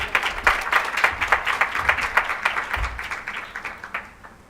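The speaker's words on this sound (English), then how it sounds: "Let's give them a big round of applause, guys" An audience at a women's conference education panel gives a round of applause, distinct claps close together and fairly loud, gradually thinning toward the end.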